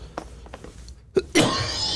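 A man coughs twice in quick succession, sharp close bursts, the second heavier and trailing into a raspy breathy tail; faint soft sounds precede them.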